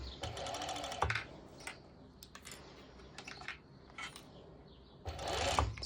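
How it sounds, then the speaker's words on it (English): Overlocker sewing machine stitching stretch fabric for a hoodie top, running in short bursts with a loud whirring run at the start and another near the end, separated by quieter pauses. "You can simply overlock it, and very important that you're not stretching the fabric whilst you're doing so"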